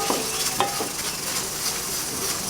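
Macaroni frying in a pan sizzles steadily as boiled, salted peas are tipped in, with a few light stirring scrapes near the start over the constant hiss.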